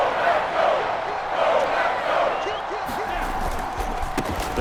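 A football stadium crowd roars and cheers steadily through a big third-down moment, a dense wash of noise from thousands of voices with some louder swells.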